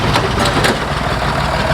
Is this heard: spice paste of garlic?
no